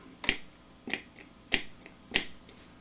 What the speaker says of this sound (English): To step through these presets, you just use this right foot switch.